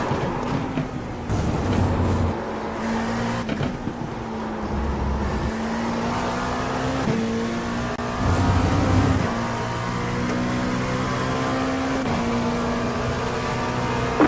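Race cars in a racing video game at Silverstone, a continuous engine drone with pitch shifts as cars pass and close in, no talking.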